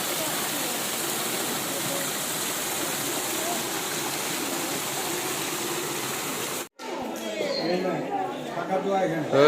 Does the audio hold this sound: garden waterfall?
yes